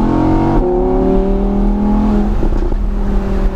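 An Audi R8 pulls away and accelerates with a loud, close engine note whose tones rise steadily, then ease off as the car gathers speed, with no talking.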